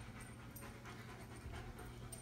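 A dog pants steadily and quickly in a quiet room, a soft, breathy rhythm heard close up with no talking.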